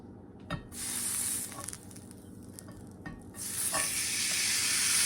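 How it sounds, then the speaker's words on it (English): A seasoned steak goes into a hot skillet on the stove, with close, loud sizzling that swells in waves, broken by a few soft clinks and shuffling sounds. "we want to go ahead and put this steak right on into this skillet"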